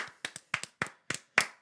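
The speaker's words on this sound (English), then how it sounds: "3-second clap" One person clapping alone on a podcast, about nine sharp close hand claps in irregular pairs and singles, crisp and dry against a silent background, with no talk.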